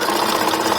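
A sewing machine runs fast and steady, zigzag stitching a stretched lace strap, a loud, even mechanical whir close up with no talking.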